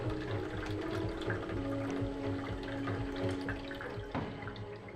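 Tap water running steadily into a sink while underwear is hand-washed in it, a continuous close splashing stream with faint drips and handling, no voices.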